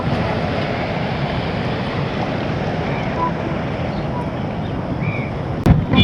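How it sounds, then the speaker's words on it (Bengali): Water pours out through a sluice gate in Faridpur, a steady broadband rushing roar with wind buffeting the microphone, continuous throughout, with a brief louder bump near the end. "সুইচ গেটের পানিটা এইখান দিয়ে বের হচ্ছে।"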